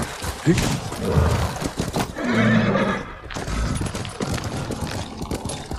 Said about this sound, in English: Let's call our horse in.